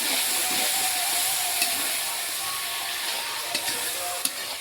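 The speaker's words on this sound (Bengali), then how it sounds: "জল দিয়ে আমি নাড়াচাড়া করে ভালো করে আর একটু কষিয়ে নেব এখানে মশলাগুলো" Spices fry and are stirred with a little water for a country-chicken curry, making a steady close sizzle and hiss with occasional sharp ticks of a spoon against the pot, and no voices.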